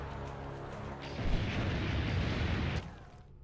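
Cannon fire in Assassin's Creed Brotherhood, a heavy, rumbling blast that swells for about two seconds and then cuts off, loud and close with no talking.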